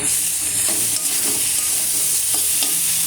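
Okra curry with ground rohu fish being stirred and fried in a pan, a loud continuous sizzle broken by several scraping stirs of the spoon, close up and with no talking.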